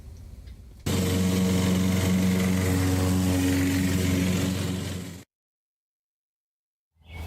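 The 8hp Briggs engine on a Jacobsen-HomeLite rear-engine rider mower starts with a loose air cleaner base. It runs loud and steady with a droning hum for about four seconds, then cuts off abruptly into silence.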